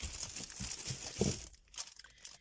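A one-kilo plastic bag of baby apples from a Lidl grocery haul is handled close up, giving soft, irregular crinkles and rustles that taper off into quieter scattered crackles.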